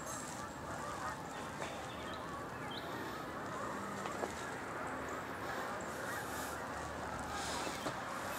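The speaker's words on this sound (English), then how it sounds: "it's really a lot of geese this morning" Hundreds of geese honking on a morning outdoors, a dense continuous chorus of distant calls spread over the whole stretch, with faint talk beneath.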